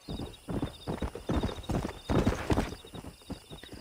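Horse hooves and a whinny in the Red Dead Redemption video game, a Kentucky Saddler stallion: loud, close clip-clop steps in an uneven rhythm with a neigh partway through, no talk.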